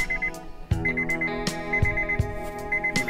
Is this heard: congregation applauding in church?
no